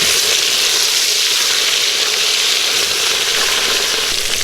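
Chicken fried steak sizzles steadily in a frying pan just after being flipped, a loud, even hiss of hot oil heard close up with no talking.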